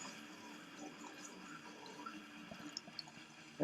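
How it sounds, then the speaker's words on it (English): Beer poured into a glass, a faint, steady liquid trickle that runs under low room noise, with a few small clinks near the end. "We'll start with the beer pouring."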